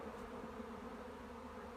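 Honeybees swarm at a crowded hive entrance while young bees make orientation flights, producing a steady, soft buzzing hum that stays even and faint throughout.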